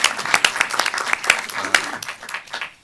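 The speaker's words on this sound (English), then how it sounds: "applause for the work" An audience at a state board of regents meeting breaks into applause, a burst of many hands clapping that stays dense and then tapers off toward the end.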